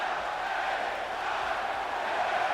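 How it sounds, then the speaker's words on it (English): In WWE 2K24, a Philadelphia arena crowd greets LA Knight at an ECW hardcore match with a steady, dense roar of cheering at moderate loudness, unbroken and with no commentary over it. "I'll just let the crowd talk to you."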